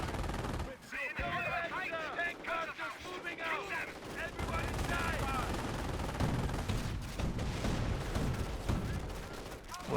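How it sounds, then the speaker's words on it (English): Wartime battle sounds from Company of Heroes with mortar fire, muffled blasts and rolling gunfire rumbling continuously at moderate loudness, with a voice talking over parts of the action. "Advancing in, they're deploying the mortar. They will drop mortars on the house."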